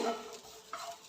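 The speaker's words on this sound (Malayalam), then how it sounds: "ഒരു കപ്പ് തേങ്ങ എടുത്തിട്ടുണ്ട്, ആ തേങ്ങ ഒന്ന് വറുത്തെടുക്കാം" Grated coconut being roasted in a pan, giving a soft scraping stir with a faint sizzle close by, a brief louder scrape near the end.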